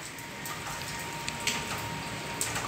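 Steady rain falls outdoors as a faint, even hiss with a few scattered drip taps, continuous and without voices.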